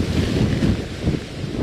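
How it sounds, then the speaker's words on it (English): Strong gusts of wind buffet an outdoor microphone, producing a loud, continuous low roar and rumble that fills the whole moment, with no voices. "It's definitely very, very windy."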